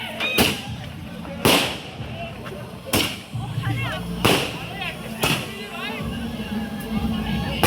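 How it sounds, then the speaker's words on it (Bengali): Fireworks going off at a college departmental farewell, with five loud cracking bangs at roughly even intervals and people talking and shouting between them. "তো এইখানে একটা আতশবাজি ধরানো হলো।"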